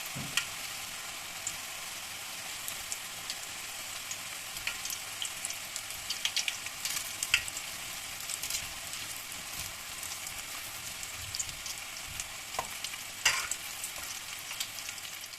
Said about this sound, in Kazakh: Оралған бөліктеріміздің бәрін дәл осылай майға қуырып аламыз